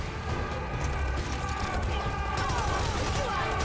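Rapid minigun gunfire in the video game Serious Sam 4 crackles continuously with bursts and explosions, dense and loud throughout, with faint voices mixed in.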